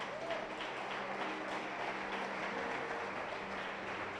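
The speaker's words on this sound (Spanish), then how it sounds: "Dale ese fuerte aplauso al Señor." A church congregation applauds in a steady, dense wash of many hands clapping, even in level throughout and heard from a distance in a large room.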